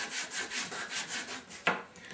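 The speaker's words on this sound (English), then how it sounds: "You want to sand all your parts." Wooden parts are rubbed with a sanding board in a steady back-and-forth rhythm, each scratchy stroke close and fairly loud, with one sharper scrape near the end.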